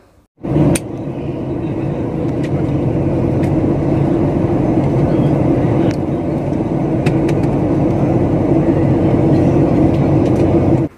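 Engine roar from a SpiceJet airliner taking off from Madurai bound for Dubai, a loud, steady broadband rumble heard from inside the cabin for nearly the whole stretch, with a few brief clicks and knocks over it.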